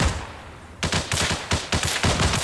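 A Minimi light machine gun replica fires in rapid bursts during an indoor airsoft game in a church, loud and close after a brief quiet start.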